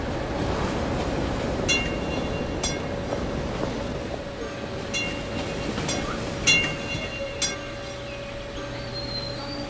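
Trams running through a city in Cities: Skylines, a steady rumbling rail hum with a constant tonal whine and periodic metallic clicks and squeals, continuous and moderately loud without talking.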